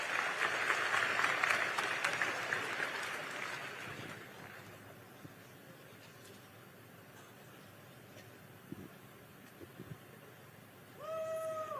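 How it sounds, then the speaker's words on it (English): Audience applause at a public event, a dense burst of clapping that fades over about four seconds into quiet room tone with a few scattered sounds, then a brief tonal electronic chirp near the end. "Give Liam a round of applause, folks, for being brave and asking a tough question."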